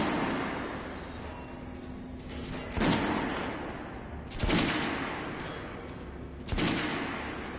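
Gunfire in the shooter Metro Last Light Redux: three sharp, booming shots spaced a couple of seconds apart over a low rumbling background, each with a brief echoing tail.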